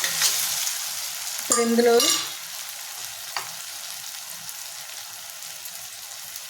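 Onions frying in a pan for a drumstick salt fish curry, a continuous soft sizzle with a brief louder stir and scrape, and someone talks briefly over it.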